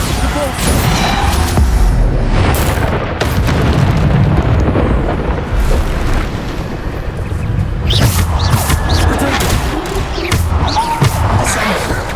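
Bombarda blasting spells go off in Hogwarts Legacy combat, heavy explosions and bursts crashing one after another across a loud, dense battle mix with voices and effects layered throughout.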